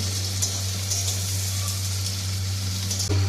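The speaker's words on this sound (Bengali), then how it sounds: "পেঁয়াজটা একটু নাড়াচাড়া করে ভেজে নিয়েছি আর লাল লাল মতো হয়ে গেছে" Onions fry in hot oil in a pan with a steady, soft sizzle and an occasional stirring scrape over a constant low hum, close up and without speech.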